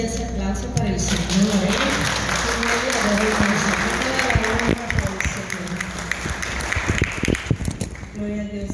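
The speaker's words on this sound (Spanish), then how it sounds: "Y ahora sí ese aplauso para el Señor." Applause breaks out in a church service after a prayer, a dense steady clapping that runs the whole stretch, with a voice speaking and harmonic singing-like tones layered over it.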